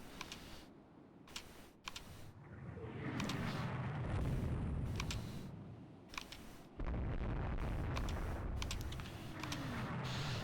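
Naval gunfire in the video game Rule the Waves 2 as warships shell the cruiser Cordelia: repeated loud booming salvos and sharp blasts over a continuous low rumble, with no talking.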